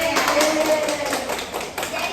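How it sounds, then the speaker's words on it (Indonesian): Applause from a classroom group, a steady broadband patter of clapping hands with voices mixed in throughout. "Ya, oke, tepuk tangan."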